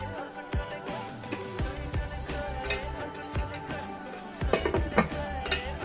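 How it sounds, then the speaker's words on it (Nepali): A metal pot of water is set down in a home kitchen during momo preparation, giving clanking, clinking knocks and scrapes of cookware at close range, with faint kitchen noise in between. "त्यहाँबाट म भाँडामा पानी बसाउँदैछु।"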